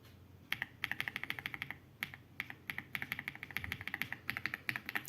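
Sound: typing on Aula F99 Pro keyboard

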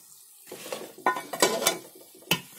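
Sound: stirring deep-fried veg Manchurian balls into sauce in a pan

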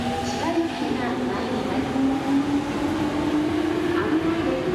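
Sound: train arriving at station platform

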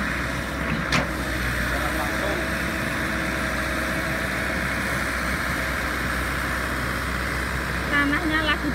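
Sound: Komatsu excavator engine scooping soil into a truck

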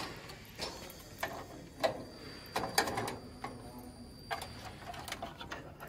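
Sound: pulling the arm pin out of a Hunter alignment wheel sensor

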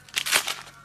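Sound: gift being unwrapped, packaging crinkling

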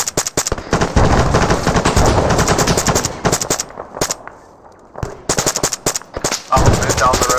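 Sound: machine gun fire in the video game ArmA3

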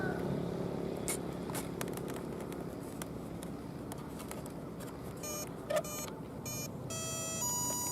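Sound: brushless motor ESC startup beeps on RC F4U plane

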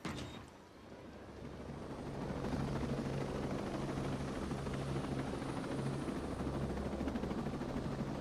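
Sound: helicopter flying in a video game

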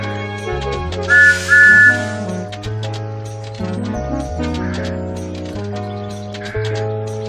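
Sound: Thomas the Tank Engine train whistle, video game

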